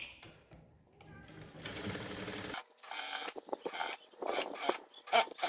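A sewing machine joins the lining pieces of a blouse in short uneven bursts of close mechanical whirring, with pauses and handling noises between runs.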